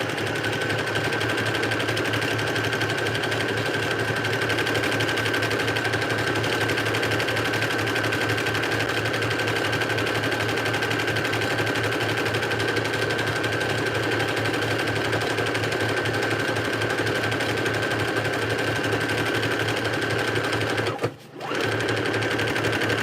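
An unthreaded sewing machine runs loud and steady for about twenty seconds with a strong even whirr, then cuts out briefly near the end.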